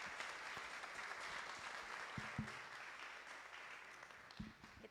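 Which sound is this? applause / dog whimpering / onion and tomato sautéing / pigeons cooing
applause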